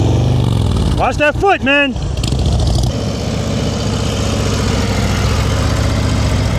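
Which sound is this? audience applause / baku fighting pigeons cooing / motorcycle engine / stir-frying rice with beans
motorcycle engine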